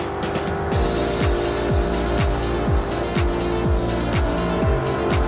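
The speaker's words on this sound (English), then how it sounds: "you can see the device in motion, turning the engine" A ship's main engine turning gear slowly rotates the engine, giving a loud steady mechanical drone with sustained tones and a repeating sweeping groan roughly every half second, continuous with no talk.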